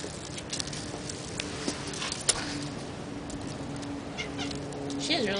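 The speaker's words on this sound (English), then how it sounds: "She's a very nice natured cat." A cat makes faint patters, small movements and soft vocal sounds in a quiet room, with light background noise.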